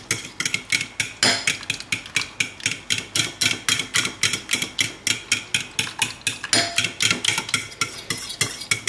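A utensil stirs a thickening mixture of soup broth in a pot for soup with meatballs, scraping and clinking against the sides in a fast, steady rhythm of repeated strokes, close and loud.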